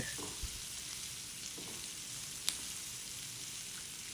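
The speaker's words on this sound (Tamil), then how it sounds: "லோ ஃப்ளேம்லேயே வச்சு கிளறி விடுங்க" Chopped onions for onion rice sizzle steadily in a pan over a low flame, a soft continuous frying hiss with faint stirring scrapes and one sharp click partway through.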